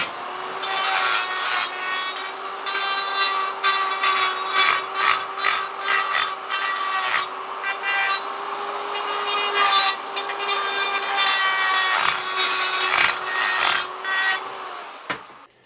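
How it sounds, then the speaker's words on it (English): Carbide burr in a die grinder working over an alloy sump during weld repair, a steady high-pitched grinding whine with rasping bursts that swell and ease over a constant motor tone, close and loud with no talking. "A die grinder with a carbide burr is also used to help clean things up."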